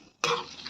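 Jujubes tipped into hot oil and stirred: a sudden sharp hiss bursts in after a brief quiet, then settles into a steady close sizzle, with no voices.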